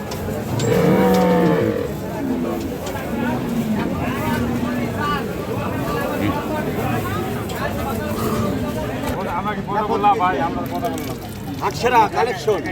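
Dairy cows and calves at a crowded rural cattle market, with a loud, close moo early on. The lowing is followed by a steady din of bargaining voices and murmur throughout.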